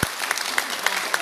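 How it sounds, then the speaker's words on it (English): An audience at an oil and gas forum at Pustaka Miri breaks into brisk, dense clapping, a short burst of applause from a seated crowd that fills the room. "Just give him a round of applause."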